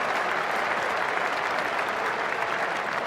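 A cricket crowd at an England versus India one-day international applauds in a dense, continuous roar of clapping, loud and sustained throughout with no pause.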